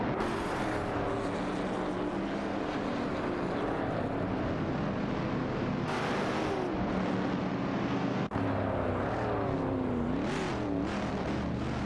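Video-game race cars, a 1968 Pontiac Bonneville and an Oldsmobile 442, roar continuously with layered engine drones rising and falling in pitch as they shift and jostle, loud and sustained with no talking.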